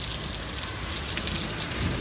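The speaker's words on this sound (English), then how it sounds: "I cannot believe it's raining right now." Steady, dense rainfall pattering on surfaces outdoors during a severe thunderstorm, a continuous hiss and spatter heard up close with no voices.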